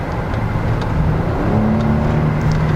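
A 2014 Mercedes S400 Hybrid in sport mode with the throttle floored, its engine revving in a steady loud drone that climbs slightly in pitch while driving through turns.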